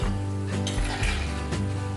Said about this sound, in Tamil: இப்போ எண்ணெயில் போட்டு அந்த சத்தம் அடங்கினோட வந்துச்சுன்னு எடுத்துடலாம்.